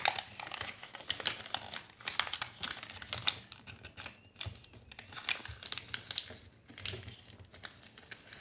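Paper crinkles and snaps as it is creased and folded into an origami crane, a close, irregular run of crisp rustles and soft taps with short pauses between folds.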